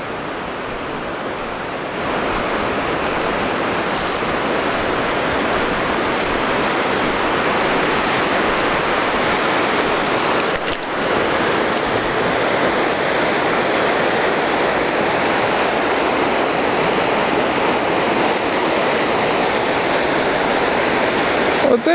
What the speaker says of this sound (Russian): Вот это река Каликс.